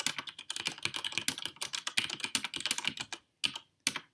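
Fast, crisp clacking from a mechanical keyboard, close up, a continuous flurry of keystrokes that thins into a few isolated taps at the end, with no voice.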